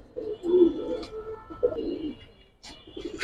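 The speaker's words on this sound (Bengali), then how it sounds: "একদম লাড্ডু মাথার আফসান বাগা মাকড়া চোখের একটা নর কবুতর ভাই।" A male Giribaz pigeon with a silver, round-headed look coos in two low, throaty bursts, close by and fairly soft, with faint chirps between.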